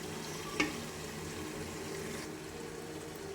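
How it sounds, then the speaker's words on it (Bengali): Beef rezala with spices being stirred in a pan, a steady soft sizzle and scraping that runs throughout, with one sharp clink of the spoon against the pan near the start. "এটাকে ভালো করে মিক্স করে নাড়াবো"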